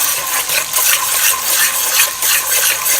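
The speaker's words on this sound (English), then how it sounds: "You're basically going to stir up your seasoning in here, your Epis, in the oil" A spoon stirring Epis seasoning in oil in a pot for Haitian black mushroom rice, a steady scraping, sizzling swish in repeated strokes, close and fairly loud with no talk.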